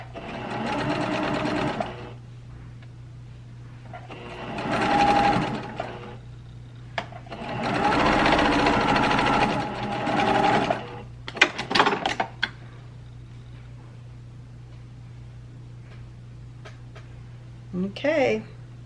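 Sewing machine stitching fabric in several bursts of rapid mechanical whirring, separated by short pauses with a steady background hum, plus a few clicks and handling noises near the end.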